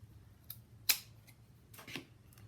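Scissors snipping the end off a small miniature window frame piece, one sharp close cut followed by a softer second snip in a quiet room.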